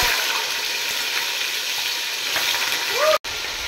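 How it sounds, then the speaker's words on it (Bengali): Chicken pieces frying in ghee with a steady, close hiss and crackle, a brief tonal squeak near the end and a sudden short cutout before the sizzle resumes. "এবার চিকেনগুলো একটু ফ্রাই করে নেব, দিয়ে ফ্রাই করছি।"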